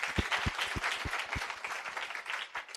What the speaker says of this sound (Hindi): परमेश्वर की तालियां बजाइए